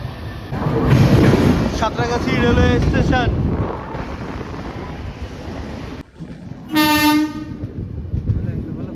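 A local train rumbles past loudly with rattling carriages, then a sharp horn blast sounds for about a second before the rumble continues more quietly.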